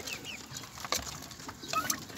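Two-month-old turkey chicks in a low wooden coop give faint, scattered peeps and soft chirps over steady background hiss, with no talking.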